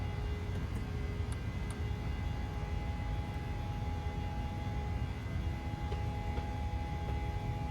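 A PMDG 737 in a flight simulator climbing after takeoff from Jackson Hole, a continuous loud engine roar with steady broadband rumble and a faint whine, unchanging throughout.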